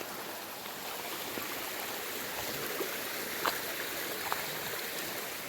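Steady rushing of a forest stream flowing over rocks, a continuous broadband wash heard alone at moderate level with a few faint splashes.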